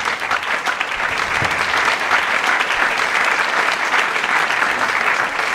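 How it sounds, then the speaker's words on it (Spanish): Concert audience applauding a duo on stage at a 25th-anniversary show, steady dense clapping sustained evenly throughout, loud and close with no voices over it. "Un fuerte aplauso para ellos."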